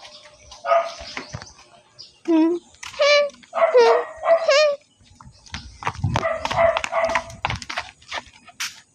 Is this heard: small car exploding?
no